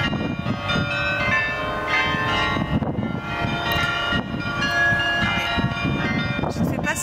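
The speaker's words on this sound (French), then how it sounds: "ça c'est le carillon." Carillon bells ring out in a steady, overlapping sequence of resonant tones, loud and close, with a faint background hum.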